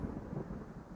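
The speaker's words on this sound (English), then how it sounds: "I heard the lightning." Thunder rumbles in the survival video game Sons of the Forest, a steady low, heavy roll filling the whole second with no voices.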